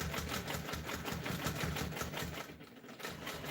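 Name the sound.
sewing machine stitching a quilt in the ditch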